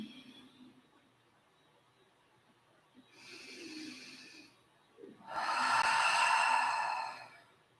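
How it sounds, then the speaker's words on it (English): Two deep, slow exhalations during a vinyasa yoga session, the second louder and longer, breathy and close with quiet pauses around them. "Focus on your breathing."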